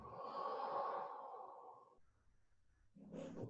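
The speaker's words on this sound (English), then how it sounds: "breathing out" A person breathing out during a qigong exercise, a long, strong, breathy exhale through the nose or mouth, then a pause and the start of another breath, close and fairly soft.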